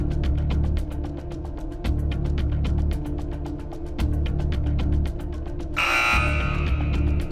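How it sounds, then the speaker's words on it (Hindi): A contestant's buzzer on a Hindi television game show sounds once near the end as a sharp, loud burst over steady, beat-driven background music. "बजर दबा दिया है"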